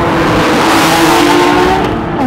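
A Sharkwerks-built Porsche GT3 RS flat-six, 4.1 or 3.9 litre, snarls loud and close under throttle, a steady raspy engine roar with rising harmonic tones and no voices over it.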